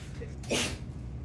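A single quiet sneeze, brief and somewhat muffled, over a low background hum.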